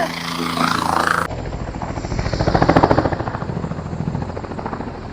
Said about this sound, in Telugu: అది హెలికాప్టర్ వచ్చింది ఒకసారి చూడండి అదే హెలికాప్టర్